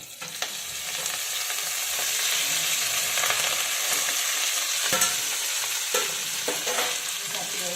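Whole chaulai saag greens crackle and sizzle in a hot pan while being stirred, a steady frying hiss broken by scraping clatters of the spoon.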